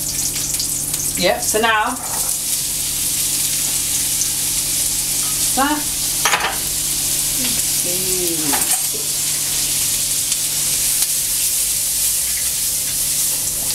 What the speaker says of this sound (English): But it is starting to sizzle.